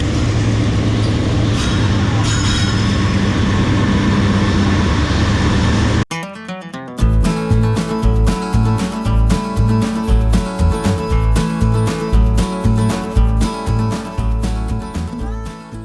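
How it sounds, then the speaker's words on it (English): A train passes close to a bike trail, first a broad rushing roar, then a loud, rhythmic clatter of wheels on rail joints repeating steadily for the rest of the passage. "Oh, got a train coming this way."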